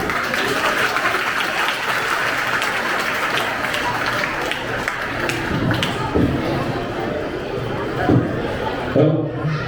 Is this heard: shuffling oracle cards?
no